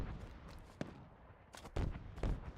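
Pistol fire in the video game Halo Infinite: several sharp, sudden shots at irregular intervals, with a couple of louder reports near the end over a quiet, muffled game background.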